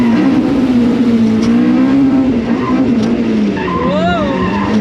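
A car slides loose on a wet, rainy track, its engine droning steadily before a rising squeal of tires near the end; a voice speaks over it.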